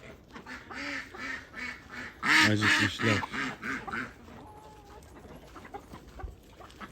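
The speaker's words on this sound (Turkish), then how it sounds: "Ördekler de aynı şekilde bağırıyor." Hungry ducks on a farm give a cluster of loud, close quacks amid softer clucking fowl, and someone speaks briefly as the calls fade.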